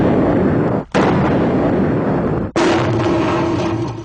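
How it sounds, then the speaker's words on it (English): A simulated bomb goes off near an office during a blast test. Two sharp, very loud explosions land about a second and a half apart, each followed by heavy rumbling debris noise that carries to the end. "It's simulating what can happen to someone if a bomb were to go off near an office."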